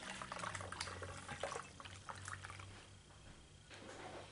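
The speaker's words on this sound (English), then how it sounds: "I'm going to pour the water back out into my pot so I can reuse it." Water poured from a doll's head back into a pot, a steady liquid splash and trickle lasting several seconds, moderately close and fairly quiet, with no talking.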